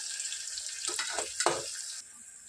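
Sliced onion and green chillies fry in hot oil in a pan, a soft steady sizzle with a couple of louder hissing bursts in the middle before it drops quieter.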